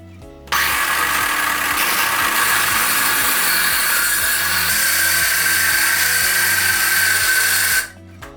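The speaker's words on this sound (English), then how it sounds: "use a jigsaw to cut along the inside edge of the line" A jigsaw cuts a sink opening in a hardwood kitchen countertop, starting abruptly and buzzing loud and steady with a rapid reciprocating chatter for about seven seconds before cutting off.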